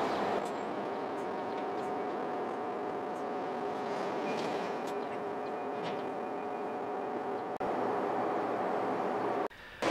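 A JR East 205 series electric train on the Tsurumi Line departs Ogimachi terminus, its steady traction motor hum and rolling noise continuous and fairly distant, with faint tonal whine throughout and a brief dropout near the end.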